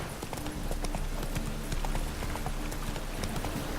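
The horse Roach trots in The Witcher 3, hoofbeats clip-clopping in a quick steady rhythm, close and continuous with faint game ambience and no clear talk.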